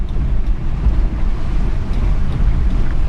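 A Toyota Land Cruiser fords water on an off-road trail during a club ride, giving a continuous heavy low rumble mixed with buffeting wind noise, loud and close.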